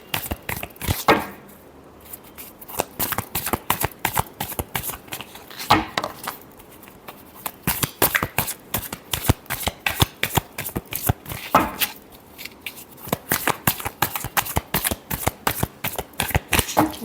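Tarot cards being shuffled by hand, a long, close series of crisp riffling flutters and slaps in uneven bursts, with short gaps between rounds.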